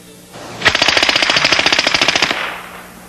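A Mac 11 machine pistol fires a rapid full-auto burst of 9mm rounds through a machined suppressor, measured at about 15 feet. The fast string of muffled, thudding shots runs for roughly two seconds, loud and close, with no talk.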